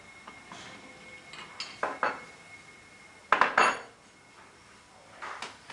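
Metal hygienic valve parts are handled with a pair of size 17 spanners, giving a few sharp, close metallic clinks and taps in short clusters separated by quiet pauses, with no talk.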